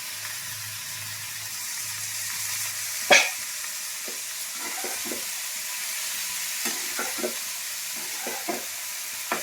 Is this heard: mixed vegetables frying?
yes